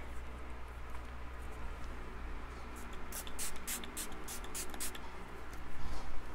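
Several quick hisses of Smashbox Photo Finish Primer Water misted from a pump bottle, a rapid burst of about seven or eight short sprays over a quiet indoor background.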